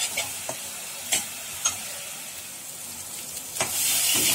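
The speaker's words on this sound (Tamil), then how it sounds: "இது எல்லாமே சேர்ந்து நல்லா வதங்கட்டும்" Onion paste with ginger and garlic frying in a pan gives a continuous sizzle, broken by several sharp stirring scrapes and clinks of a spoon against the pan.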